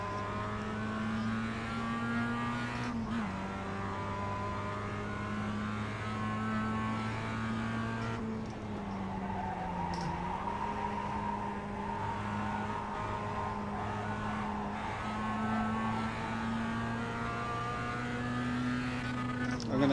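Race car engine in the iRacing video game, a steady droning tone that climbs and drops through several gear shifts over a lap, with tyre and road noise underneath and some talk.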